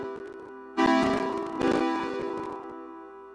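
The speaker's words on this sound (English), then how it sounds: "let's go through bells and vibes here." Bells and vibes preset from the Kyle Beats Sandbox plugin, bright mallet-like chime tones struck in a sudden loud cluster and ringing out in layered, sustained notes over a faint lead-in, with no talking.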